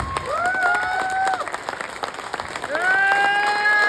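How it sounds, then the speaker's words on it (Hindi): An audience at a motivational talk gives a short burst of clapping between stretches of voiced, tonal sounds, with the applause strongest in the middle. "तालियां"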